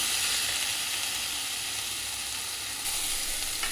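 Onions fry in a pan for a Punjabi home-style ridge gourd curry, giving a loud, steady sizzle and hiss close up that runs unbroken to the end.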